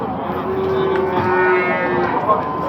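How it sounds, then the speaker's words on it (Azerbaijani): Cattle bred for meat at the Barda livestock market in Azerbaijan give a long, loud, close moo with a drawn-out tonal bellow, amid the low murmur of the market. "Super sort heyvanlar. Bunlar ət yığan mallar."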